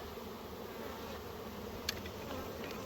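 Honeybees buzzing around a hive just after a swarm, a dense continuous drone of many insects close by, steady and even throughout, with no talk.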